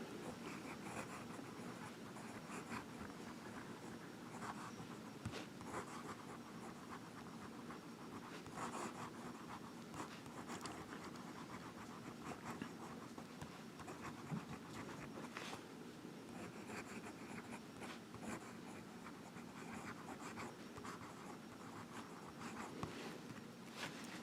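A Diplomat Aero fountain pen writes on paper close to the microphone, a faint, steady scratching of nib strokes with small pauses, no talking.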